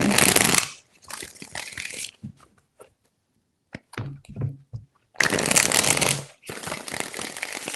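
Tarot cards being shuffled in several quick riffling bursts, close and crisp, with pauses and soft handling noises between them.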